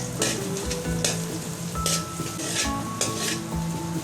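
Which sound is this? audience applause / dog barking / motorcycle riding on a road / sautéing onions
sautéing onions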